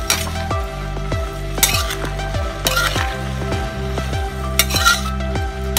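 Petha pumpkin sabji cooking in a pan on full flame, with a steady sizzle and rhythmic metallic clinks of a spoon against the pan recurring roughly every half second, close and clear, with no talk.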